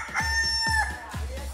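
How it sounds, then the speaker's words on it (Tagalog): A rooster crows three times in quick succession, each call a loud, close, rising-and-falling cock-a-doodle-doo with strong harmonics, framed as an imported bird in a lively studio setting. "Ayun na, tumilaok na."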